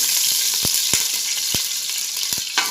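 Okra frying in a pan, a dense, loud, continuous sizzle with sharp pops and crackles scattered through it, close up and with no talking.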